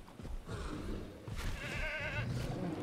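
Goat bleats from Jurassic World Evolution 2, a wavering nasal cry near the middle of the clip over steady game ambience and a low rumble.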